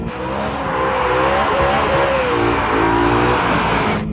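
An S65 V8 engine swapped into a BMW 1M Coupe revs hard at high RPM, a loud, close, raspy roar with rising and falling pitch sweeps as the throttle is worked.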